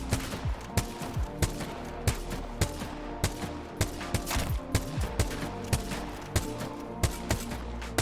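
Gunfire in the shooter game Apex Legends cracks out in a steady, evenly spaced string of sharp shots over a dense, continuous background of game effects, with no talking.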